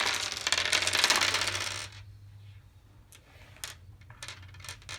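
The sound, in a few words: dice rolling behind player screens in a board game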